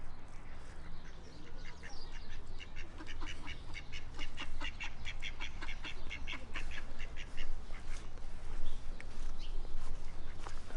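Ducks quack in a busy run of short, rapid calls that carry on through most of the clip over a steady outdoor background noise, moderately loud without any talking.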